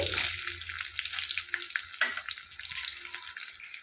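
Onions frying in a hot pan for mint rice, a continuous crackling sizzle with bright popping, close and steady for the whole stretch with faint stirring.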